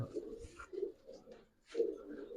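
Pigeons from a collection of high-flyer, racer and colouring breeds cooing softly nearby, several low throaty coos in short bursts with a brief pause between.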